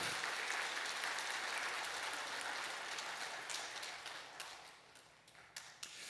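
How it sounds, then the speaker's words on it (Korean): A church congregation in Seoul applauds, broad clapping that starts full and gradually thins, leaving a few distinct, louder individual claps near the end. "우리 다시 한번 마을장들 박수를 한번 격려해 주실까요"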